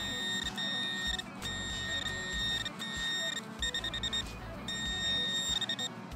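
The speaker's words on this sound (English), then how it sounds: "And that's what your detector is for, to double check." Metal detector beeping during urban coin hunting, steady high tones that repeat and pulse in short bursts over rustling outdoor background noise, fairly close and continuous.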